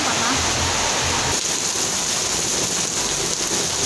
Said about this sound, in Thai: ฝนตกครับ ออกไปถนนไม่ได้